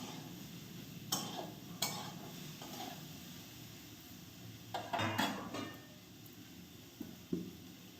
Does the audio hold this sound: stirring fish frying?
yes